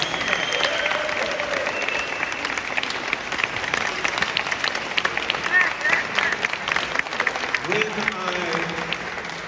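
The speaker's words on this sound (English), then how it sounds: "a great round of applause" An audience at a Chicago event honouring the Reverend Jesse Jackson gives sustained, dense applause that carries steadily for several seconds and continues under a voice that starts speaking near the end.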